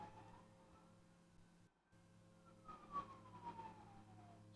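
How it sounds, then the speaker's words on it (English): Faint emergency vehicle siren wails in the background, a thin rising and falling tone drifting across a low steady hum, with no voices over it. "And the sirens going off in the background."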